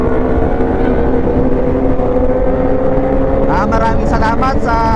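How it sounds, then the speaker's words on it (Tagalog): Several motorcycle exhausts roar together on a group weekend ride, recorded from the back of the pack: a loud, steady engine drone with wind rush throughout and a rising revving whine near the end. "sa ingay na tambutso nila"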